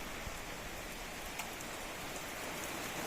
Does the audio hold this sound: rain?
yes